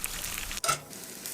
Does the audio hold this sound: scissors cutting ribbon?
no